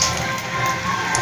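Fritters such as onion or eggplant fritters frying in a pan of oil, giving a dense, steady sizzle like rain on a surface over a short moment, close and uninterrupted.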